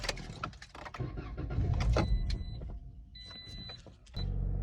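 A 2018 Toyota Corolla LE cranking and starting after an alternator replacement: clicks and key rattle, a chiming dashboard tone, a whirring starter, then the engine catching into a steady idle at the end.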